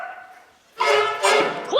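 A performer's voice imitates a dog during a live storytelling concert, giving two loud, close yips after a short stretch of quiet humming tone.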